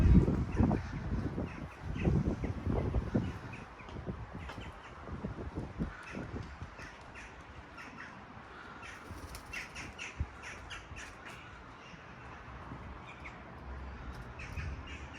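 Crows caw repeatedly around a flying drone, with louder harsh calls early on fading to scattered calls and faint chirps against an outdoor background.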